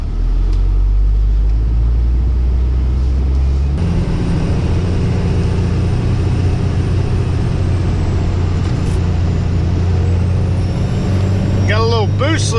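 A 4th-gen 6.7 Cummins diesel truck with a boost leak and a possible head gasket problem rumbles low and steady as it pulls away, engine drone filling the cab.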